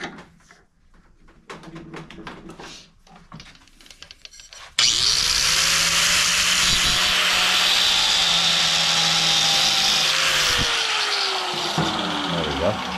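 Power tool cutting through the steel fender of a 1964 Chevrolet Impala, starting abruptly after quieter shop clatter and running as a loud, steady, near whine for about eight seconds with a rising and falling tonal edge.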